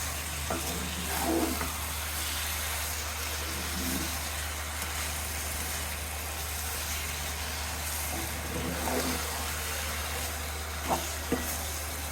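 Carrot halwa with sugar being stirred in a big pan, a steady soft sizzle with occasional scraping strokes of the spoon against the metal, continuous and close.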